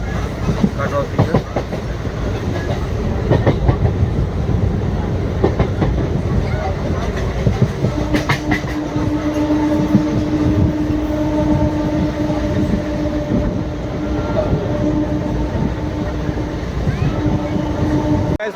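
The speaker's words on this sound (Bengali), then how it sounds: "বর্ধমান থেকে ট্রেন ছেড়ে দিয়েছে আজকে" A passenger train from Bardhaman runs with a loud, continuous rumble and rhythmic clickety-clack of wheels heard from on board, with a steady tone emerging midway and voices faintly underneath.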